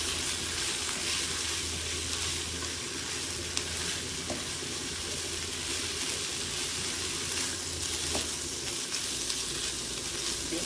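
Rice sizzling in a pot on a wood-fired stove while being stirred, a dense, steady frying hiss with faint scraping, close and continuous without talk.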